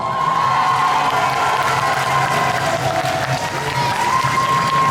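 A crowd applauds at a cosplay contest at a Metz convention, producing a dense, continuous wash of clapping with some cheering, steady and loud, over a faint sustained tone in the background.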